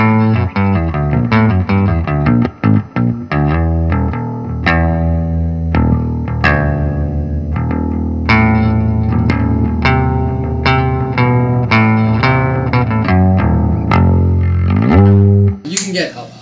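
A Rickenbacker 4003S electric bass with its vintage tone setting plays a warm, rounder line continuously, with sustained notes and some sliding, ending in a brief noisy burst.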